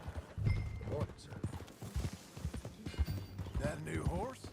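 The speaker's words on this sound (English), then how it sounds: "That a new horse?" Horse hooves clip-clop at a steady walking pace in the Red Dead Redemption 2 video game, a close rhythmic patter of thuds running under intermittent speech throughout.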